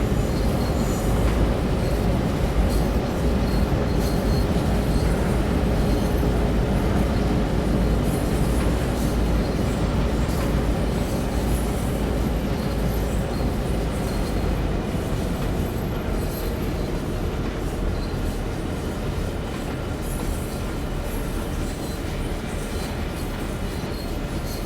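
A long train in Train Sim World 2 rolls along with a continuous, heavy rumble and rail roar, holding steady with faint clatter and no pauses for the full stretch.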